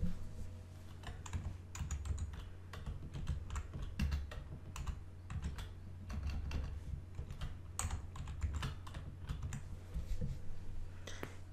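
Steady typing on a computer keyboard while a discount name is entered into a Shopify store's discount field, with dense clicking keystrokes running throughout over a low background hum.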